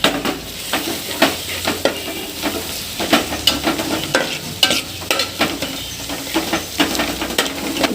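Onions, mint and coriander leaves sizzle loudly in a pan for mutton biryani while a spoon stirs and scrapes in a quick, irregular rhythm close up.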